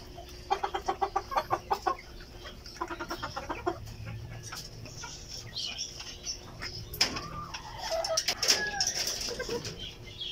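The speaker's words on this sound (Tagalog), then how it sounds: "katatapos ko lang po namigay ng pagkain sa aking mga alagang pansi chicken" A backyard flock of Brahma chickens clucks after feeding, with rhythmic bursts of close clucking early on, then scattered calls, some wing flapping and louder rustling activity near the end.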